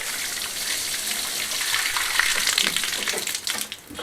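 Water from a hose soaking natural stone paving laid for a patio, a steady broadband hiss and splatter running continuously and close throughout.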